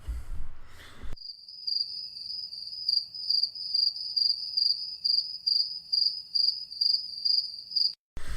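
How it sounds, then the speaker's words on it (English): A single cricket chirps steadily in a quiet night setting, a high, pulsing trill repeated in regular bursts. It comes in right after a brief bit of talk and stops abruptly at the end. "Crickets."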